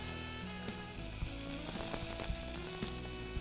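Steady crackling sizzle of curry leaves and cumin seeds frying in hot oil, close and continuous, with a few soft pops and stirring sounds.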